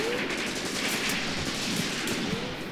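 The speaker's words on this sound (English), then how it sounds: "Keep these guys here to provide covering fire." Rolling bursts of rifle and machine-gun fire from a Graviteam Tactics battle keep going without a break for the whole stretch, dense and fairly loud, with no voices over them.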